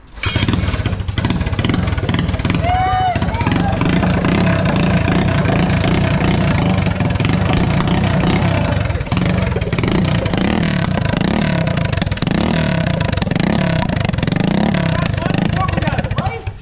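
A mini motorbike fitted with a Yamaha XJ6 exhaust revs loudly and repeatedly up close, its raspy engine rising and falling in bursts while people talk over it.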